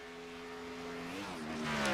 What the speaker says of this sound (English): You could hear the engine spin the tires, the engine revving up there as he spins the tires.